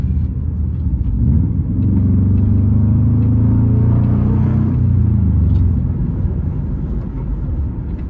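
Modified aftermarket exhaust on a Subaru, a manual Forester XS or automatic Impreza WRX, droning low and steady from inside the car while driving, a continuous deep rumble that rises slightly in the middle and holds throughout.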